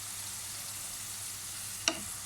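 A vegetable omelette with spring onions frying in a pan gives a steady, soft sizzle throughout, broken near the end by one brief sharp clink or scrape.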